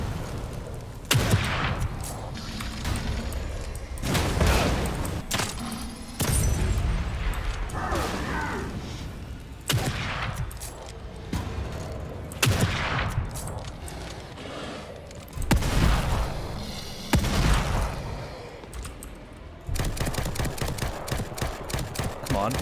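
Heavy gunshots boom at irregular intervals, with mechanical clicks and clatter between them, during combat in the horror game The Evil Within 2, while a player talks at moments throughout.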